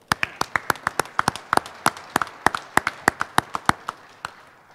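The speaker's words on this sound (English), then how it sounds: "How about a round of applause for that?" Sparse clapping at a city news event about the Denny Sanford Premier Center, a few distinct claps in an uneven rhythm, close and crisp, with no voices over it.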